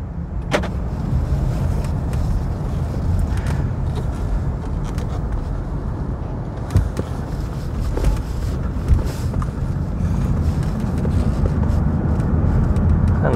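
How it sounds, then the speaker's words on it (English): A Ford Focus Electric car drives along, with steady low road and cabin rumble plus wind noise throughout, a few faint clicks and bumps, and no engine note or talk. "Drives just as smooth as ever."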